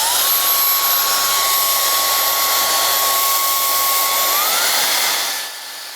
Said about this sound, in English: it's pretty loud with the nozzle on, but I mean, with these small compact hair dryers with a lot of power, I mean, they're gonna be loud